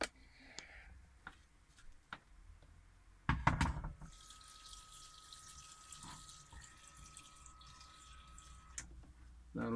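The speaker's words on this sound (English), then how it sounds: "Now I'm just gonna add some water." Water runs from a tap into a pot of vegetarian soup made from scratch, a steady stream lasting several seconds after a few clanks and knocks of the pot.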